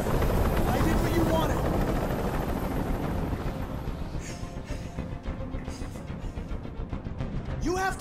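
Helicopter noise in the video game Detroit: Become Human, a constant loud rotor drone filling the scene while characters talk over it.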